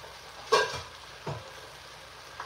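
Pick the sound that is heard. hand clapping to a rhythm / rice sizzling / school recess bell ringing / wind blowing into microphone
rice sizzling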